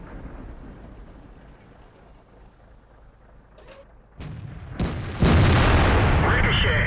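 A tank cannon fires in World of Tanks, Object 268: a heavy boom bursts out loud near the end after quieter rumbling and a couple of sharper cracks, no voices over it.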